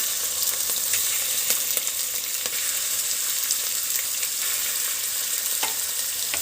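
Meat for a biryani hits hot fat in a pot with a loud, continuous sizzle, spattering crackles and occasional sharp pops running steadily throughout.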